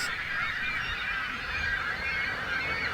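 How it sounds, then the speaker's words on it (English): Dense chorus of young gulls calling together, a continuous overlapping chatter of high cries from a large colony, loud and unbroken. "an island just offshore that was full of baby gulls"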